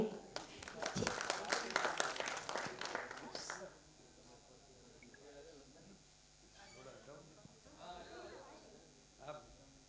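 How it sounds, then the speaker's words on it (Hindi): An audience at a stage event for Braj Holi breaks into dense, fast applause that lasts a few seconds, then a voice takes over at a distance. "हमारे माननीय दो जोरदार ताली होनी चाहिए"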